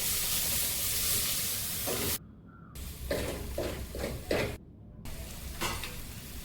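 Ingredients frying in a pan with very little oil, a soft steady sizzle broken by two brief gaps, with light stirring scrapes in between.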